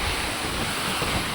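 Heavy rain and strong wind in Odisha make a steady, dense roar of broadband noise that stays even throughout, with no voices.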